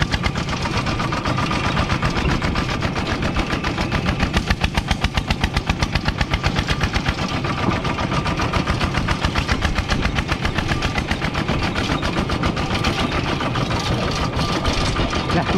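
A Kubota RT11 engine on a farm tractor fitted with six-wheel truck rims chugs steadily while driving over bumpy, potholed ground. The close, loud single-cylinder beat thuds in a fast, even rhythm throughout.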